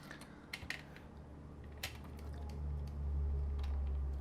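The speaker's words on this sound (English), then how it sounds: "I'm going to hit my X on the keyboard." A single X key pressed on a computer keyboard while working in Photoshop: a few sharp, close clicks early on against a steady low hum, with no voices.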